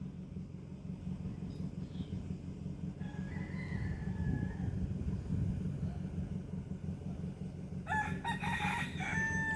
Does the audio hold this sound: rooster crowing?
yes